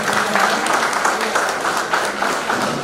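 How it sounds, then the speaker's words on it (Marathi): Audience applauding at a certificate distribution ceremony for teachers, a dense, steady burst of clapping from a crowd throughout, fairly loud and continuous. "सर्वांनी जोरदार टाळ्या."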